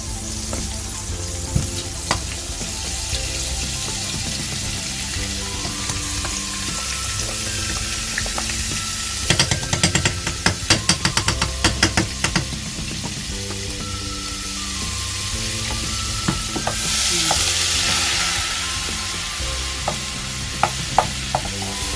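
Butter sizzling in a little oil as the base of a gravy sauce, a steady crackling fry running throughout with bursts of sharper pops and spatters midway and near the end, no voices.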